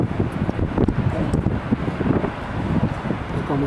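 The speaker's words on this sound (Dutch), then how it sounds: "Een beetje winderig natuurlijk." Gusty wind blowing at the rim of a deep valley about 200 meters down, continuous buffeting rumble against the microphone with rustling, moderately loud and steady.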